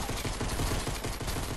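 Rapid video game gunfire crackles in a dense, steady burst, loud and close, with no talking over it.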